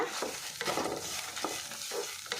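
Egg masala with coriander leaves fries in a pan, a close hiss broken by several quick stirring scrapes in a loose rhythm, with no voices.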